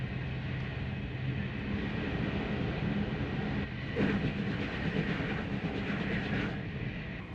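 A TGV high-speed train between Paris and Marseille runs at top speed, giving a steady, loud broadband rumble and rail roar with a brief surge partway through and faint clickety-clack throughout.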